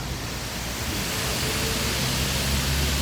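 Artificial waterfall at Khorfakkan, Sharjah, fed by a pipeline: a steady, dense broadband rush of falling water that holds even and continuous throughout, growing slightly fuller toward the end, with no voices.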